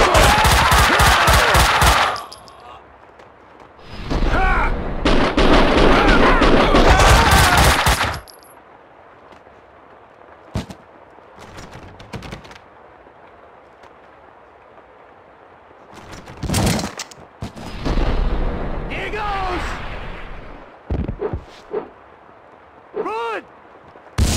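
Gunfire in the PC shooter Max Payne 2: The Fall of Max Payne, with long loud bursts of automatic fire, then scattered single shots and short bursts, and game voices calling out in the quieter gaps.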